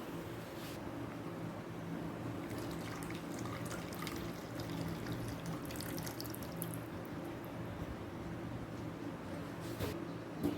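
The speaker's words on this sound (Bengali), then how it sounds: "এটাতে আমি কিছুটা জল দিয়ে সর্ষের জলটা নিয়ে নেব" Water is poured onto ground mustard paste in a home kitchen, a steady, soft, continuous flow lasting about ten seconds with no talk.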